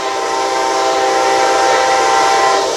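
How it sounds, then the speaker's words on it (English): Amtrak 53 auto train passing southbound on track 2 by the Selma Smithfield station in Selma, North Carolina: a loud, steady close roar of rolling wagons with a constant tonal hum, no talk. "we got the Amtrak 53, the auto train, southbound by Selma, North Carolina, on the number 2 track"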